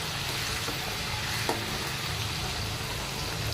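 Crushed garlic sizzles in a generous amount of oil for misal pav, a continuous close hiss with one faint clink partway through and nobody speaking.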